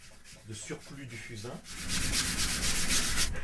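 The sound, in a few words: brush removing excess charcoal from canvas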